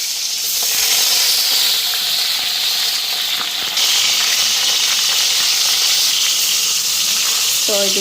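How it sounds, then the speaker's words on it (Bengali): Pointed gourd (potol) pieces fry in hot oil in a wok, giving a steady, loud broadband sizzle that holds throughout, with a brief knock near the end. "পটলগুলি ভেজে নিই"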